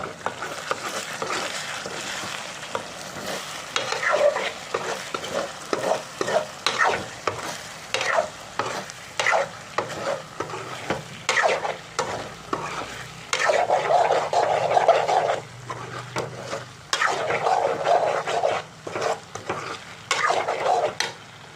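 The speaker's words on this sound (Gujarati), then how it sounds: "અને પાઉંભાજી મસાલો તો આપણે મિક્સ કરી લઈશું" Pav bhaji masala being stirred in a frying pan for Navsari-style pav bateka, with bursts of spoon scraping and clatter over an ongoing sizzle, close and fairly loud, with short pauses between strokes.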